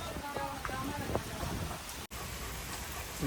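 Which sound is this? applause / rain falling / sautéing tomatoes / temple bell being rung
rain falling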